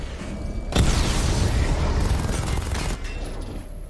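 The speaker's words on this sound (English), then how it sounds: "Charge up missile barrage to level 2 and destroy" Missile barrage explosions in the video game Batman Arkham Knight: a sudden loud burst of booming blasts that rumbles on for about two seconds, then drops away to a faint hum.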